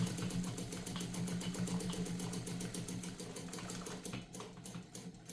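A Morse DuoMatic sewing machine runs fast and steadily through a heavy denim hem on logger jeans, a dense, rapid mechanical chatter with a low motor hum that holds throughout, then slows slightly near the end.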